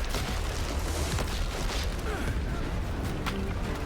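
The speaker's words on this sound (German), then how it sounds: "Das Magazin! Es explodiert!" A ship's powder magazine blows up during a naval battle in Assassin's Creed Black Flag, heard as a loud, dense, continuous rumble of blast and crashing debris with no clear break.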